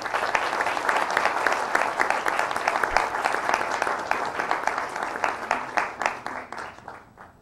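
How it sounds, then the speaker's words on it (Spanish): Audience at a public finance address by Chilean minister Mario Marcel breaks into strong, sustained applause, dense rapid clapping that fills the room and gradually thins and fades toward the end. "recibamos a don Mario Marcel con un fuerte aplauso"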